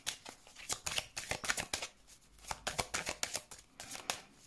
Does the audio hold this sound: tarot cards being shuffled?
yes